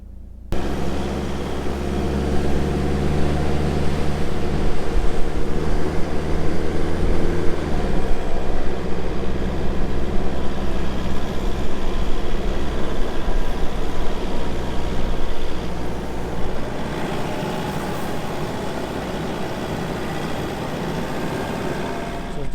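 A vehicle with its tyres let down for sand drives along a sandy bush track, giving a steady, loud engine drone with rumbling road noise that holds without a break and settles slightly partway through, and no one speaks.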